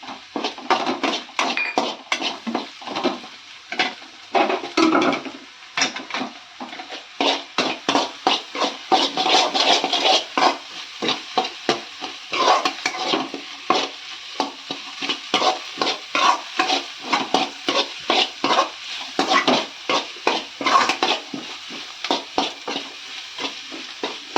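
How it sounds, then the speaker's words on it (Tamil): Two eggs are stirred and fried in a pan for an idli dish, heard as loud, fast, continuous scraping of a spatula against the pan over a steady sizzle, close and without talk. "இப்போ முட்டை சேர்த்துக்கிறோம்"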